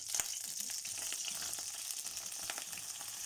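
About two large eggplants, cut up and frying in a pan over high heat, give a dense, steady hiss close by, with a few faint clicks from stirring.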